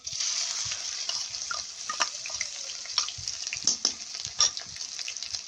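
Ginger, garlic and green chili paste with cumin frying in a small amount of hot oil, giving a steady bright sizzle with scattered crackles and pops throughout.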